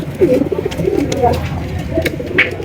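Soft, low cooing from Budapest breed pigeons repeats through the short stretch, close by, with light background noise and a few higher chirps.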